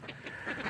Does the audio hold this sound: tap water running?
no